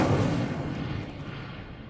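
An Incendio fire spell in Hogwarts Legacy goes off as a muffled whooshing burst that fades away over about two seconds, soft and rumbling, with no voices.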